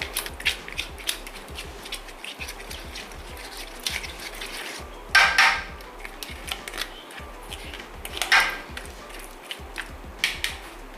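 Seeds being scooped and separated from mashed plums, for a sweet, sour and salty plum fruit roll: soft, steady wet scraping and stirring with two brief louder clatters of the utensil, close and without talk.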